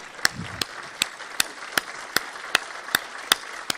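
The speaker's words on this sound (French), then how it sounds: "Et je vous propose de les applaudir" Applause from an audience at a mayor's New Year address to residents, businesses and associations, heard as sparse, evenly spaced sharp claps, roughly two or three per second, fairly close.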